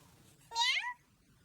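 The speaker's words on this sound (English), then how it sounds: "we're even going to give you a nice, cute, cuddly kitten to play with" A single short, high-pitched kitten meow rises and falls once against a quiet background.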